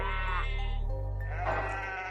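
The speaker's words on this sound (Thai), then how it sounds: "ถ้าอย่างนั้นเสียงร้องของแกะและวัวที่ข้าได้ยิน หมายถึงอย่างไรเล่า" A sheep bleats loudly and close by in a long, quavering call, then a second wavering bleat follows, with no talk over it.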